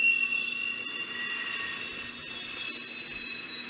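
A street vendor's pushcart for camote (sweet potato) gives off a steam whistle: a sustained, shrill metallic squeal with several piercing high tones over a low rumbling hiss, steady and fairly loud, like a subway braking.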